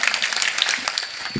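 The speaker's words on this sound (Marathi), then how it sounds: "टाळी वाजवायला तुम्ही तुमच्याकरिता." An audience at a kirtan claps together in a brief, dense burst of applause.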